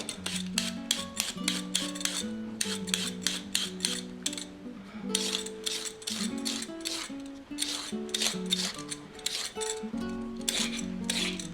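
Parsnips being peeled with a hand peeler, worked in both push and pull strokes: a fast, steady run of dense, close scraping strokes with no talk, for a simple parsnip and apple soup.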